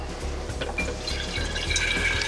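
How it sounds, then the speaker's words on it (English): Water pours from a tap or container into vegetable broth in a gallon glass jar, a continuous close burbling fill with small splashes and drips, no voices. "we put quite a bit of water into the broth to bring it all the way up."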